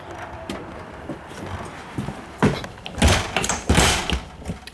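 A series of light knocks and rattling slides from a lightweight sliding screen door panel on a 2025 Forest River Wildwood 27RK RV, ending in a few louder scraping sweeps close by.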